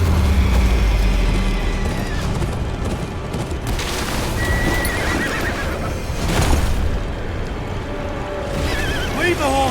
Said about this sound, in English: Leave the horses!